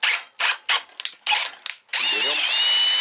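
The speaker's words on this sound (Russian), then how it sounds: "я сейчас буду рассверливать вот эти подставки, чтобы убрать отсюда разрыв" A long 5 mm drill bit bores out the cable stops on an old bicycle frame: several short, loud whirring bursts, then one sustained high drilling whine.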